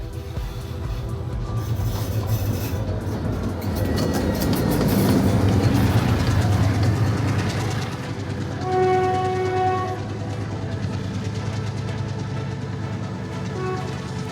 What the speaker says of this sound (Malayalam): വീണ്ടും ഒരു ട്രെയിനിൻ്റെ ശബ്ദം കേട്ടത്. ഒരു ട്രെയിനൂടെ വരുന്നുണ്ടെന്ന് തോന്നുന്നു.